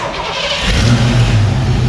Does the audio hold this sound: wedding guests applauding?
no